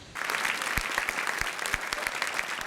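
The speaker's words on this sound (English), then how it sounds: "You came, they saw, they applauded." Audience applause at a televised talk show, a sudden onset of dense, sustained clapping from a crowd, fairly close and steady throughout.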